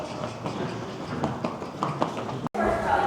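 Hooves clatter and shuffle on a hard floor with thumps and knocks from a horse moving in a metal squeeze chute, close by, with a voice nearby.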